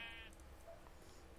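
A sheep in the Minecraft video game gives a short, clear bleat at the very start, followed by quiet low background hum.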